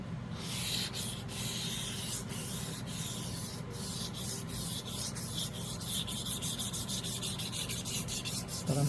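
Resin surface being wet sanded by hand, a steady continuous scratchy rubbing with repeated short strokes, close and alone with no talk.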